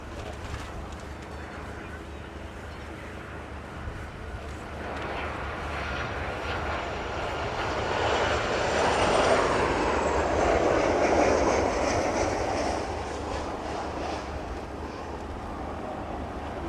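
An aircraft landing at East Midlands Airport on a windy day: a broad jet roar swells from a steady background rumble, peaks as the plane touches down, then eases slightly, heard from a moderate distance with no talk.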